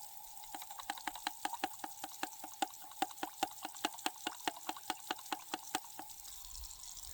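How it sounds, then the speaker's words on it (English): Water being pumped through the dip hose of a fruit-tree sprayer to rinse it, with a steady run of rapid, evenly spaced clicks over a faint watery background, close and moderately loud. "put water in here so we can clean the hose out, the dip hose"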